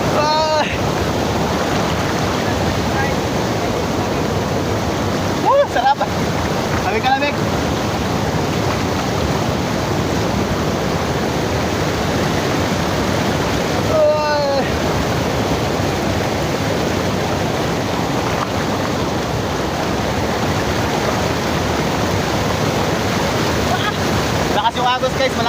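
Strong river current rushing at Samariña Dam in Brook's Point, Palawan, a constant loud water roar with wind buffeting the microphone, and brief voices breaking in a few times.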